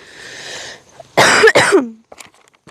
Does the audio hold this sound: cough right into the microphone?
yes